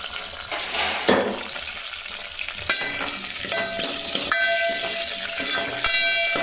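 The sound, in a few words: dried red chillies frying in oil for tomato rasam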